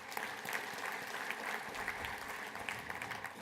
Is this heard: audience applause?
yes